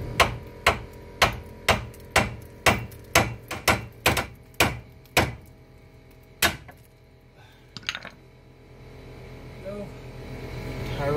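About a dozen sharp metallic hammer blows ring out in a quick, even rhythm to separate a tie rod from the steering knuckle on a Chevrolet Sonic. A few slower strikes and faint shop noise follow.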